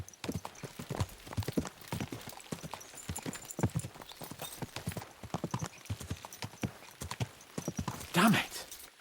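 Horses' hooves clip-clop in Kingdom Come Deliverance 2, a rapid irregular run of close hoofbeats from more than one horse, ending with a horse's whinny near the end.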